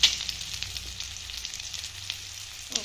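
Onions fry in a pan with a steady close sizzle and faint bubbling crackle, with a brief clatter at the start and end.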